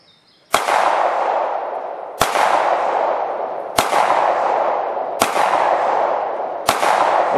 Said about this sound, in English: this is shooting the mini torso with 9mm